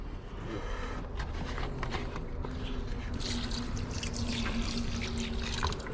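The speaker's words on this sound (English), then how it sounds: "Now I'm going to put some distilled water in there and totally rinse it" Distilled water poured into a container to rinse material during gold recovery from flat packs, a continuous close splashing and trickling that grows brighter partway through.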